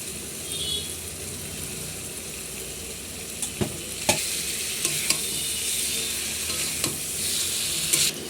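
Chicken pieces frying in spiced oil with salt and turmeric, a steady close sizzle with scrapes and knocks of a spoon stirring through the pan, no voices.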